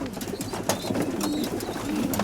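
Pigeons at a loft coo in soft, rolling calls that overlap continuously, close by with faint chirps and clicks scattered through.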